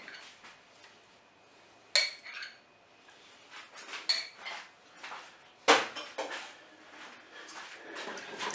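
Chopped parsley and two spoonfuls of mustard are mixed in a bowl, with quiet scraping and light spoon clinks plus two sharper knocks against the bowl, all close with no talk.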